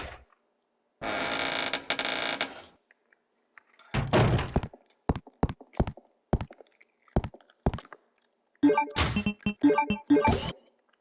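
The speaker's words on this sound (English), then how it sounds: "I think it's time to use the grenade launcher." A grenade launcher fires in Resident Evil Code: Veronica X, with heavy thudding blasts and impacts: a long roaring burst, then a cluster of sharp thunks, scattered single hits and a final dense flurry, separated by silence.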